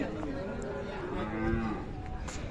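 A Khillar cow at a cattle market in Sangola moos in a long, low, drawn-out call at moderate distance, with faint crowd murmur and market ambience behind it.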